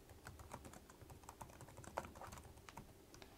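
Quick, light keystrokes on a computer keyboard tap out a short irregular burst of typing, faint and close, with no talking.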